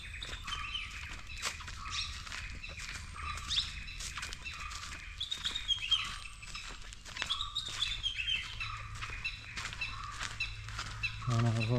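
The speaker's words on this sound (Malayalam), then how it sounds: "ഇവിടെ എന്തോ കുറച്ചധികം പക്ഷികളുണ്ടെന്നുള്ള സൗണ്ട് കേൾക്കുന്നുണ്ട്." Many small birds chirp in forest near a stream at Thattekkad Bird Sanctuary in Kerala, a dense overlapping chatter of high tweets running throughout, with low background rumble and occasional handling noise.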